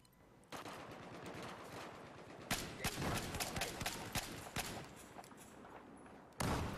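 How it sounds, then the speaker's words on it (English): Sustained automatic gunfire from a weapon in the shooter Battlefield 4, a dense rattle of rapid shots with louder sharp bursts, fairly close and continuous over ambient battle noise. "I like the sound this gun makes"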